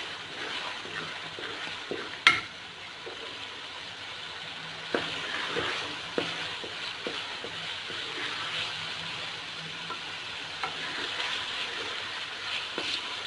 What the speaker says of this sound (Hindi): अब हम इसको मीडियम फ्लेम पे ला के बहुत ही अच्छे तरीके से भूनते हैं।